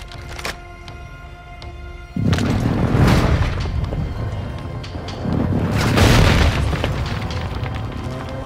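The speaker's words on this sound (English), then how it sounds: "Hostile airstrike incoming." Airstrike explosions in the Warzone video game: deep, loud booms rumble heavily and overlap, with a sharp onset and a sustained roaring tail and no talk.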